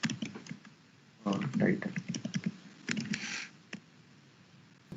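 HTML code is typed on a computer keyboard in quick bursts of close key clicks with pauses between them, while a person talks over the typing.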